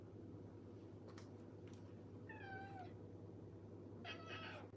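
A cat meows twice indoors, short rising-and-falling calls a couple of seconds apart, fairly close but quiet over a constant low hum from a fan, with a few faint clicks and knocks between.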